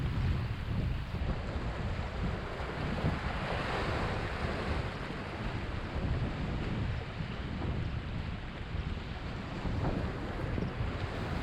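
Surf rolls in continuously against the Isle of Skye shore while wind buffets the microphone, a steady, loud wash of breaking sea waves with no voices, constant throughout.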